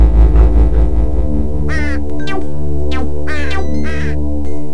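A cartoon crow caws several times in harsh, distinct calls over steady animation music and a low background hum, loud and close.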